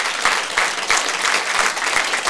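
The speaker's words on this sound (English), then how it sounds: "please give them another round of applause" An audience at a Christmas brass band concert at The Triangle in Bolton applauds, with sustained, full clapping and a few louder bursts rising from the crowd.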